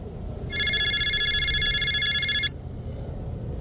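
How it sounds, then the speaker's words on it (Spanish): A telephone bell rings once in a continuous two-second burst, a bright electronic trill standing clear above a low background hum, then stops. "El teléfono volvió a sonar."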